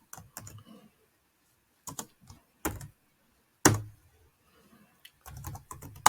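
Short bursts of computer keyboard typing separated by pauses, fairly close and crisp, with a few heavier keystrokes among the clusters of taps and no talk over it.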